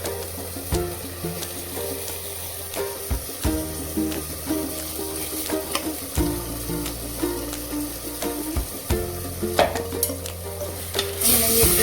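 Washed rice being stirred into a sizzling khichdi mixture in a pot, with a spoon scraping and clinking against the metal in repeated strokes over a steady bubbling sizzle, up close and with no talk.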